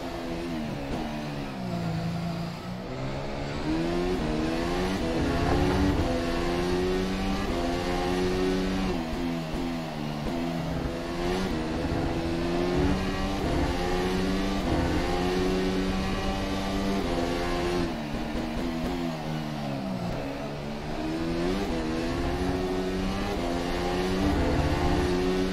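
A Zakspeed Formula race car engine in rFactor 2 revs hard through a lap at Montreal, its steady high-pitched whine climbing and dropping with gear changes, continuous and alone.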